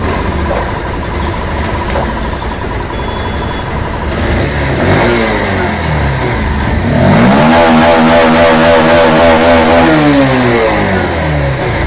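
A Bajaj Pulsar BS6 motorcycle with low pickup and a MAP sensor fault idles close by, then revs up twice, its engine note rising steeply and holding high near the end.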